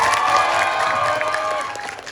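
Audience in a hall clapping and cheering for a performer, crowd noise with whoops and shouts over a sustained tone, gradually fading toward the end.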